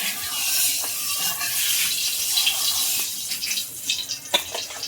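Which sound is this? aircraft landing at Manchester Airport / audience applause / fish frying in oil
fish frying in oil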